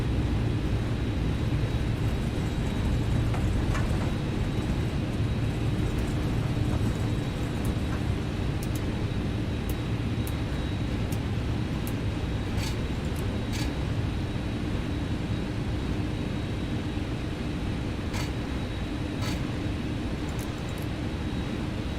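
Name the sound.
MD-11 airliner taxiing, from video game X-Plane 11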